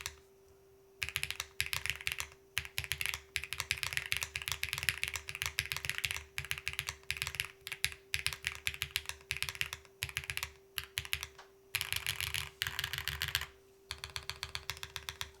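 Keys clack on a QK Alice Duo split mechanical keyboard in fast, close bursts, with short pauses between runs and a steady low hum underneath.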